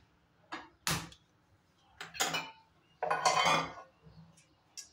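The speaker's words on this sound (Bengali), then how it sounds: "এখন আমি গ্যাসে একটা ননস্টিকের প্যান বসিয়ে দেবো" A nonstick pan set down on a gas stove for a cabbage omelette, heard as three separate clanking knocks of metal against the burner grate, close and fairly loud, with quiet pauses between them.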